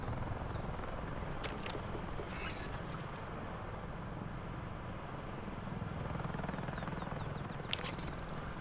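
A helicopter in Call of Duty Modern Warfare 3 gives a steady, low rotor drone throughout, moderately distant, with a few sharp high clicks scattered over it and no voices.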